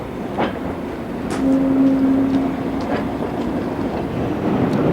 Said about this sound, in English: I've got a high-speed train and all sorts of things going past me here at the moment